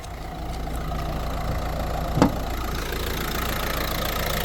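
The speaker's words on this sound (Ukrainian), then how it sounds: "як дизельочок, рівненько торохтить собі, як потрібно" A 2015 Renault Megane's 1.5 diesel K9K engine idles close up with an even, steady clatter and one brief knock partway through.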